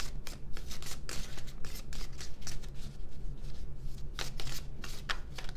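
Tarot cards are shuffled by hand in a steady stream of crisp riffling and flicking bursts, close and fairly loud, with no talking over them.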